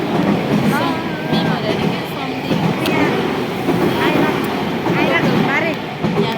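Steady rumbling rail noise of a local train in Tokyo, Japan, with a constant low roar, overlaid by busy chatter of many voices nearby.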